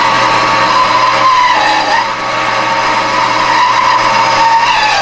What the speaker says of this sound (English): I'm just drilling this thin piece out today